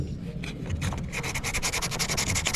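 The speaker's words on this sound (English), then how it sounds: "Sometimes I sand a little too much and I end up making another hole." Hand sanding over a small ding repair on a surfboard, a steady, close rasping rub that speeds into quick, even back-and-forth strokes.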